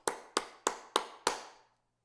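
Five sharp, evenly spaced claps ring out in a church, each crisp strike decaying into reverb, a slow deliberate rhythm without any talk.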